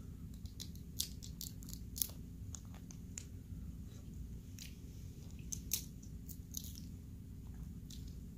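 Close, quiet chewing and cracking while eating crab legs, with scattered small crunches and wet bites over a low background hum.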